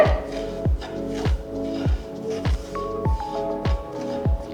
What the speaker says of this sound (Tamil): போட்டு நல்லா மிக்ஸ் பண்ணிவிடுங்க